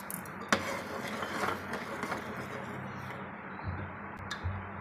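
A spoon clinks against a pot as two spoonfuls of sugar go into boiling milk for sweet vermicelli, with a sharp tap early on, then soft scraping and bubbling, close and moderately quiet.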